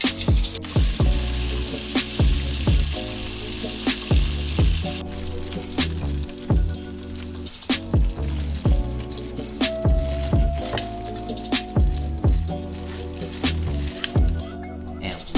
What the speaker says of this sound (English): Typically wings take about 20 minutes to cook because of how small they are and how precise it needs to be cooked.